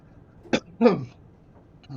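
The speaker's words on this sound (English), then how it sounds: "that cough crept up on me there" A short dry cough, then a second harsher one, close up against a quiet background, while playing Train Simulator Classic.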